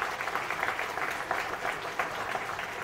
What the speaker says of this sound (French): Et je vous remercie de les applaudir.